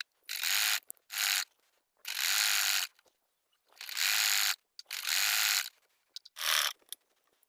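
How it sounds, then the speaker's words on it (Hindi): A sewing machine stitching a strip along a blouse neckline, running in six short bursts of whirring with quiet pauses between, close and clear with no talking. "इस पट्टी के ऊपर से एक सिलाई लगा लेना है"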